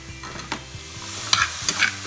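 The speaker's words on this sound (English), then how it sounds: "Now my dad is gonna stir it all," Onion, garlic and basil are stirred in a frying pan for spaghetti meat sauce, with soft scraping strokes over a steady low sizzle and a few brighter utensil scrapes near the end.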